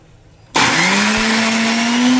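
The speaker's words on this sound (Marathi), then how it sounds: "मिक्सरमधून बारीक केलेली आहे" A mixer grinder grinding moong dal whirs on abruptly after a brief quiet start and runs at a loud, steady whine through to the end.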